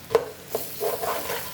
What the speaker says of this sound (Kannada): ಬೆಳ್ಳುಳ್ಳಿ ಮಾತ್ರ ಚೆನ್ನಾಗಿ ಫ್ರೈ ಮಾಡ್ಕೋಬೇಕು